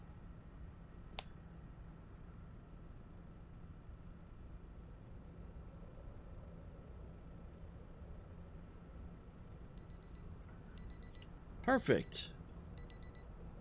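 An alarm clock in the video game Project Zomboid gives short bursts of faint, repeated electronic beeps near the end, over a quiet background hum, with a brief spoken word.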